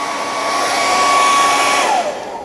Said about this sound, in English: the hairdryer gets hot really quick